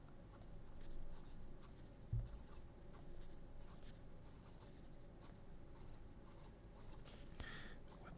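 A Pelikan fountain pen with a springy 18 karat nib scratches softly across paper, a faint, steady stroke with one brief tap near the start, heard close and alone.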